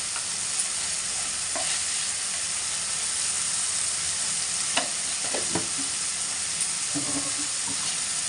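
Gongura leaves and tomato chutney cook in a pan with a steady soft sizzle and hiss, broken now and then by faint scraping stirs, with no talk.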